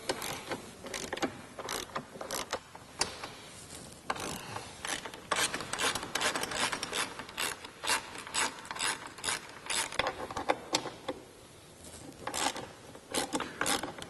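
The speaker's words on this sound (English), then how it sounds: "Now we're going to go ahead and remove the 2 bolts on each side. These take a 13mm socket." Ratchet with a 13mm socket loosening bolts on a Jeep JK Wrangler, a rapid run of close clicking pawl bursts in irregular spurts, with short pauses between strokes and no voices.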